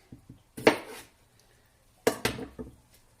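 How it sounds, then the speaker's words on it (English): A knife cuts vegan taco filling in half lengthways on a board in two close, separate bursts, each a sharp knock followed by a brief crunchy slice. "I'm going to cut it in half lengthways."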